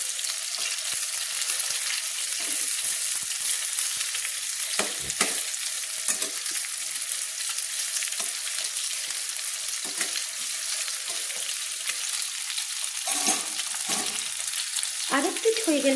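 Chicken fries over a medium flame in a pan, giving a steady sizzle of hot oil throughout. Occasional clinks and scraping from turning the pieces sound near, and no voices are heard.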